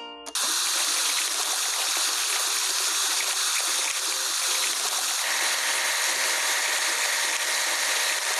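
Steady, loud hiss of water spraying as a timber loader gets washed in a construction-vehicle building game, continuous throughout with faint mechanical clicks underneath and no talking.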